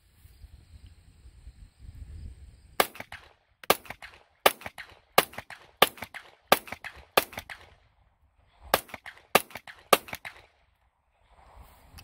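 A Taurus GX4XL 9mm pistol firing Turkish ammunition at an outdoor range, about a dozen sharp loud reports in two quick strings separated by a pause, each crack short and snappy, with quiet ambience between and no talk.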